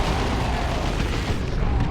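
A stick bomb goes off in the Dawn of War 2 real-time strategy game, a loud, dense rumbling boom with heavy low-end blast noise filling the whole moment amid ongoing battle sounds.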